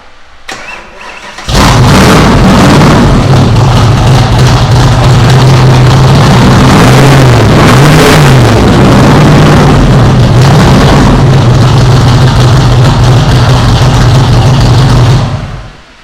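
A crate V8 engine for a Factory Five Cobra replica fires up after a short crank and runs loudly for about fourteen seconds, settling into a rumbling idle with a few throttle blips, then cuts off.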